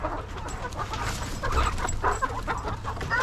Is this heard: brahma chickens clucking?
yes